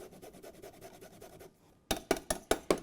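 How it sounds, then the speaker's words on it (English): Fresh ginger rubbed over a grater above a marinade: a steady run of soft, even rasping strokes, then after a short pause a set of louder, sharper scrapes close by, with no talking. "we're going to grate the ginger over top of our marinade"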